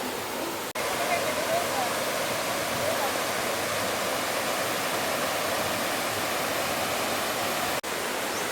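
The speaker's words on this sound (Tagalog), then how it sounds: "Look, the falls! It's so huge." A large waterfall in Bohol fills the air with a dense, unbroken roar of crashing water, loud and steady throughout with no let-up.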